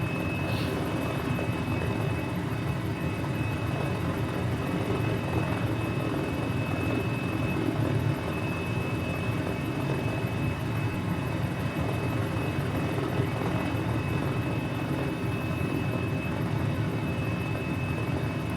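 A helicopter in Microsoft Flight Simulator drones steadily in cruise, a loud continuous rotor and turbine roar with a faint high whine, unchanging throughout with no talk over it.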